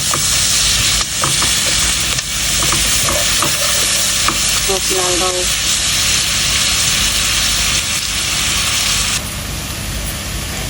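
Onions fry in a pan for beef and bitter gourd curry, loud steady sizzling close up while a utensil stirs and scrapes through them at intervals, with the hiss shifting slightly near the end.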